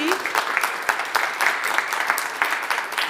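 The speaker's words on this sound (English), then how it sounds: "Let's give Lisa a round of applause." An audience claps steadily after a conference talk on open source and the cloud, a dense sustained round of applause at moderate volume.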